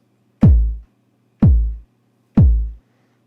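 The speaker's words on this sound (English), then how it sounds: "The first sound is a kick drum." Three deep, booming kick drum hits, evenly spaced about a second apart, each with a quick attack and short decaying thump, alone in silence.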